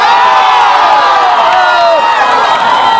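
A loud rally crowd cheers and shouts continuously for three seconds, with whoops and some applause mixed into the roar. A few voices rise above the crowd noise.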